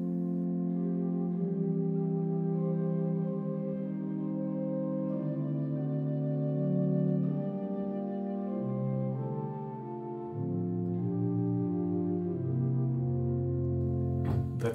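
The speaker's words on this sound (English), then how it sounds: "there's the option to add the tremulant to the Hauptwerk" A sampled Bückeburg baroque pipe organ plays a flute stop on the Hauptwerk with tremulant, sustained chords and moving lines wavering steadily for about fifteen seconds, alone without talk.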